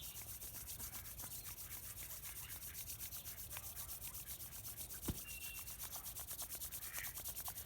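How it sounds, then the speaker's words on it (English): Palms rubbed together to warm cold hands, a faint, steady, rhythmic brushing with quick regular strokes, heard up close in a quiet room. "So rubbing the palms together to create a lovely warm heat between the two hands."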